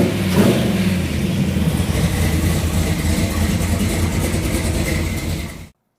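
A 1969 Plymouth Road Runner engine firing up for the first time, a loud, steady rumble with a brief rev at the start, running rough and continuous close by before cutting off abruptly.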